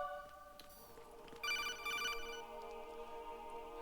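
Telephone ringing in a video game: a steady electronic ring with a bright burst of trilling bell tones in the middle, sustained over a soft hum with no talking.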